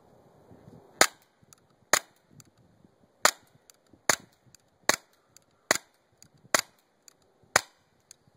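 A RAP17 EX pistol fires about nine sharp, snappy shots outdoors at a rock, spaced unevenly roughly a second apart, each crisp report followed by brief quiet.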